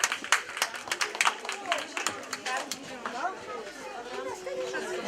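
An audience in a library claps briefly for a prize winner at a children's exhibition award ceremony, with short bursts of clapping mixed with crowd chatter and voices talking throughout.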